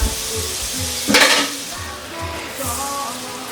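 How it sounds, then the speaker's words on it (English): Four tablespoons of butter melt and sizzle in a pan to be browned for a pasta sauce, a steady close frying hiss with a brief louder burst of crackle midway. "Go ahead and melt that. And what we're doing is we're going to brown this butter."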